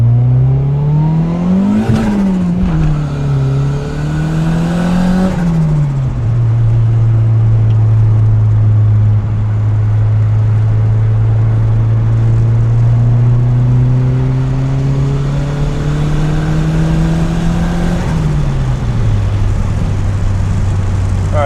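A turbocharged Honda Civic with smaller injectors and an FMU is driven hard on pulls. The steady, loud engine drone rises and falls through revs and gear changes, heard from inside the car.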